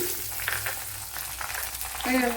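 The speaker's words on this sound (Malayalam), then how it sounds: "ഇപ്പോഴെനിക്കൊന്ന് കുറച്ചുകൂടെ ഒന്ന് മൂക്കണം" Ingredients frying in a pan for a sweet potato dish, a steady close sizzle with brief stirring scrapes and a louder burst of crackling near the end, no voices.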